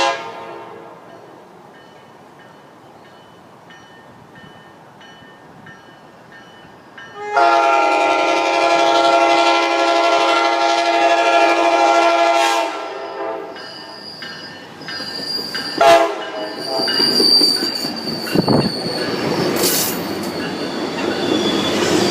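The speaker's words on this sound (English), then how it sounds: "we are about to witness the arrival of northbound Tri-Rail" A northbound Tri-Rail train pulls into Pompano Beach Station, starting as a faint distant rumble, then a loud horn sounding for several seconds before the wheels screech and squeal as it rolls and brakes close by.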